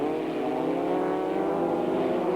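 Formula Vauxhall Junior single-seater race cars at Ingliston in 1991 drone past as a pack, a steady sustained engine roar at moderate distance with no commentary over it.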